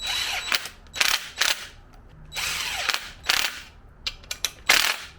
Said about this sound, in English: I just have some clamps here. I'm going to clamp them to the inside.